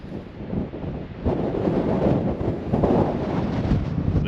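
A strong gale blows at the Head of the Bight on the Australian coast, buffeting the microphone in heavy, rumbling gusts that swell and ease without a break.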